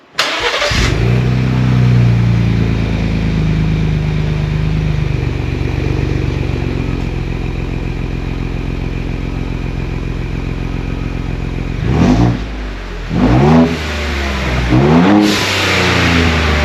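A 2021 Ford Bronco with a Roush axle-back exhaust starts with a bark and then idles loud and close with a deep rumble. Near the end it gives several sharp revs.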